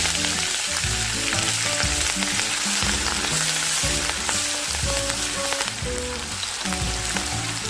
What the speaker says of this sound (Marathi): आता आपण ही बारीक चिरलेली मिरची घालूया